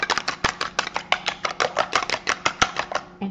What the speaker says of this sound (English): just crack my egg into the bowl. Just give it a bit of a mix just to break it up.